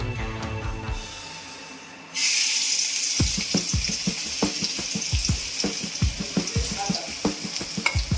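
Garlic frying in a pan for a clam recipe: quiet kitchen noise, then a loud, continuous sizzle bursts in, with repeated sharp clicks of stirring against the pan.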